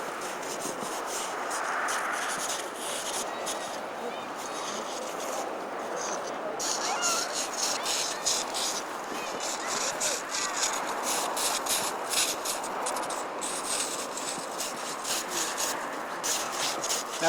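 Snow blocks for an igloo are cut and shaped with a steady, gritty scraping and rasping, close and continuous, with sawing strokes thickening toward the end.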